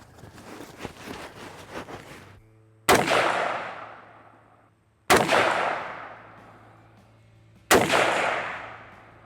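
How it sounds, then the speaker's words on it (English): An AR rifle fires Hornady Match 73 grain ELD ammunition outdoors, three loud, spaced single shots, each with a sharp crack and a long decaying echo, following a stretch of softer handling noise. "So next up, Hornady Match. This is 73 grain ELD."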